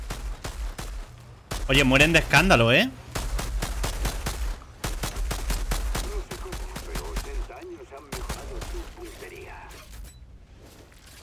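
Gunfire from a weapon in the video game Outriders, with rapid bursts of shots under a Spanish-speaking player's talk and a loud swelling effect near the start.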